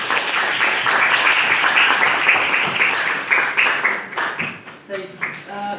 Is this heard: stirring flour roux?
no